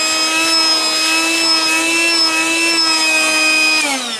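A homemade gas mask respirator blower runs steadily, pulling air through a filter with a loud, even motor whine and rushing airflow that holds constant, then spins down near the end.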